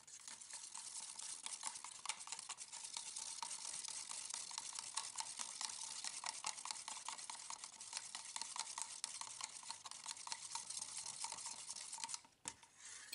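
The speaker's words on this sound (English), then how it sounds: "And then just stir it up." Glue stirred into acrylic paint in a container: a steady, close scraping and swishing that runs continuously for about twelve seconds, with a brief clink near the end.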